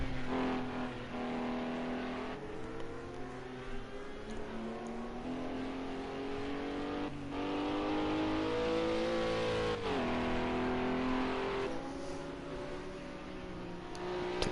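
Acura GT3 race car in a sim racing game sweeping through a very fast chicane, engine revving and rising in pitch with quick downshifts and re-acceleration, loud and continuous throughout.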